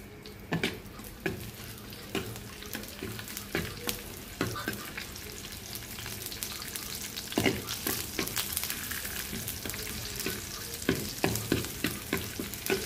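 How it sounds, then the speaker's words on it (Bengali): Garlic sizzles and crackles in hot oil for a dal tempering, with steady frying hiss and repeated sharp scraping and stirring knocks in a pan throughout; no voices. "তো তেল দিলাম আর রসুনটা দিলাম, এটা ভালো করে ভাজবো।"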